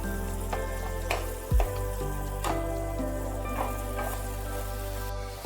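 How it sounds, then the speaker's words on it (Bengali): Tomatoes and onion paste fry in oil in a pan over a low gas flame, a steady soft crackle running throughout, with a few louder clinks and stirring knocks near the start and end, plus a background hum. "টমেটোগুলো তেলের মধ্যে ভালোভাবে একটু ভেজে নিতে হবে"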